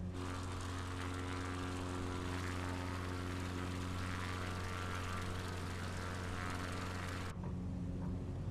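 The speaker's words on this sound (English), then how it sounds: "We're gonna fly this plane here." Propeller airplane in Microsoft Flight Simulator taking off from ice, a steady loud droning engine hum held throughout, dropping slightly in tone near the end.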